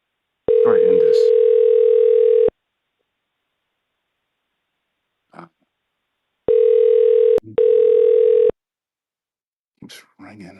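A new office phone system gives out a steady electronic tone in long bursts, first for about two seconds, then twice more after a pause with a brief break between, while a voice speaks quietly in the gaps.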